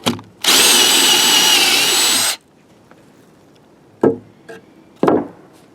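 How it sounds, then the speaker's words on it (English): A power drill bores into a 1x3 wood board for a Honda Ridgeline bed rail, one loud sustained whine lasting about two seconds, then quiet with a few short knocks and handling clatters. "Now I've got this on top of my 1x3. I'm going to drill in here."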